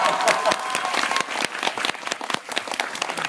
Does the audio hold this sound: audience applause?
yes